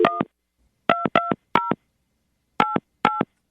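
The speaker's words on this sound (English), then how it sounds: "we're going to call her right now and see if we can get her on the phone" Telephone keypad tones beep as a number is dialed: six short, clean tones in irregular groups, with silence between presses and no talk.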